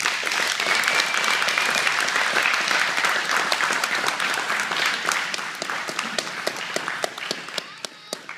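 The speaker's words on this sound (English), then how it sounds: "So a big round of applause." An audience at an Alvarez Jiu Jitsu gym in Arlington, Texas claps for a purple belt promotion, dense, lively applause that holds strong before thinning into scattered claps near the end.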